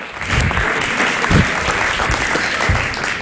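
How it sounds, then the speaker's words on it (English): A conference audience at the HundrED Summit 2018 education event claps in steady, full applause, close and loud, with a few heavier claps standing out. "So let's give a round of applause to Mila."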